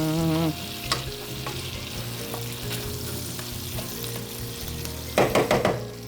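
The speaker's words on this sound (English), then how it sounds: "Vinegar. Soy sauce. I'm going to mix that up a little bit." Vinegar and soy sauce stirred together in a hot pan, a steady sizzle and frying hiss with a few metallic utensil taps and a brief burst of clattering scrapes near the end.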